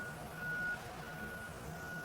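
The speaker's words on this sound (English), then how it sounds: "Sorry about the beeping." Steady reversing beeps from a truck outside, a thin repeating tone heard faintly in the background throughout, slightly louder at the start over a dull ambient hum.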